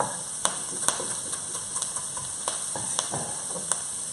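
A soft, steady sizzle of food frying in a pan, broken by a few sharp clicks of a utensil; quiet, with no talking.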